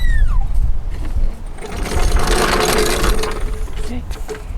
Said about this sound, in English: we're gonna go lower the vehicle now